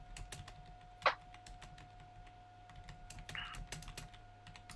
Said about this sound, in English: Are you typing something to me?